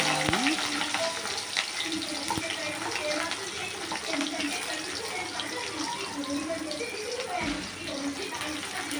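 Green chillies, cumin and onion frying in a pan for a taro (chamagadda) curry, giving a steady close sizzle with faint stirring scrapes throughout, no talk.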